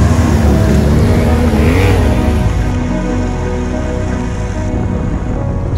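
A KTM 790 Adventure Rally motorcycle fords a river in the Greek mountains, its engine a steady loud drone blended with continuous rushing, splashing water throughout.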